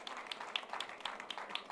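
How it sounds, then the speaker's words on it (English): Faint, distant clapping from a start-up pitching competition audience, a thin patter of individual claps at a steady rhythm rather than a full roar. "Can I get a big round of applause for everyone who braved the stage?"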